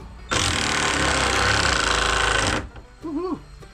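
A power driver runs a screw in with one loud, steady whir lasting about two seconds, then stops abruptly, and a voice follows briefly.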